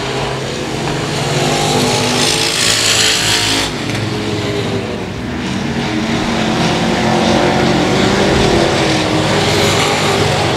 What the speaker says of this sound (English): so this time by, Rodney, they'll complete lap number 6, halfway home